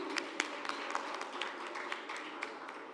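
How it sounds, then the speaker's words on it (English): Scattered applause from a pageant audience during a queen ambassadors reveal, fairly faint and thin, with a few sharper individual claps standing out across three seconds. "Give Javan a round of applause, please."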